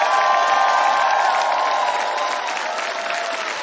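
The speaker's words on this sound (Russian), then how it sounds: "Ваши аплодисменты" A concert audience applauding loudly and steadily, a dense wash of clapping with some cheering that fades slightly toward the end.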